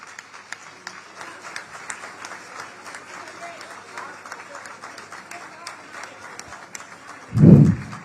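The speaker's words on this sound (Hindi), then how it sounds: "स्वागत कीजिए, प्यार तालियों से लुटाइए।" Faint, scattered audience applause at a literary poetry gathering welcomes a poet to the stage, with a dull thump near the end.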